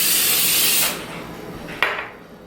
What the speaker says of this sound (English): I'm gonna go ahead and spray my pan